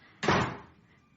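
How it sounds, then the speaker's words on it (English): A front door bangs shut in a radio play as a single loud, close thud with a short reverberant tail that fades out quickly; nobody speaks during it. "It's the front door. Someone's inside."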